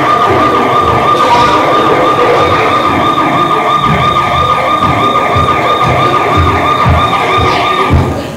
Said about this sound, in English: Did we really need the siren?